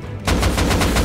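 Rapid automatic AK rifle fire in a first-person shooter video game, a loud sustained burst of evenly spaced shots starting abruptly after a brief quiet moment.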